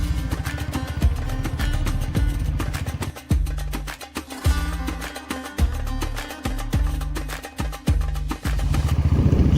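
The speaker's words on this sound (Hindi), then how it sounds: "हम लोग आज बाइक से जा रहे हैं" A motorcycle rides along a Himalayan road toward Mukteshwar, its engine rumbling steadily up close, with repeated gear changes and revs rising and falling throughout.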